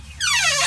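Wooden door of a 4 by 8 foot deer blind shooting house swinging on its hinges, giving one close, rising squeak that sweeps upward in pitch and holds, fairly loud.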